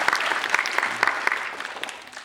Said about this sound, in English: Can we have a round of applause for our wonderful question?